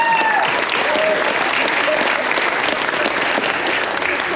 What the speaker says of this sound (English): Let's give them a huge round of applause as well.